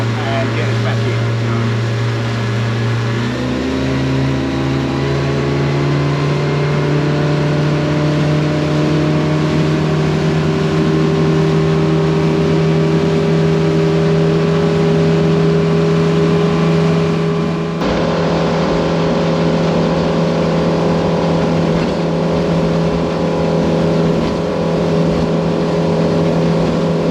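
Steady, loud drone of a boat engine at sea climbing in pitch as it accelerates, then holding a high, even roar for a long stretch with a slight shift partway through; speech is faint or absent.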